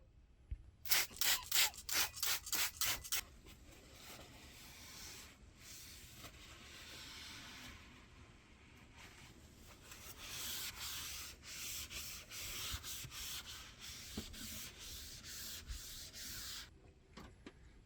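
A knife block and the wall behind it are scrubbed inside an Airstream trailer, first with a burst of quick rhythmic back-and-forth strokes, then with long, steadier stretches of rubbing and scraping, close and clear with no talking.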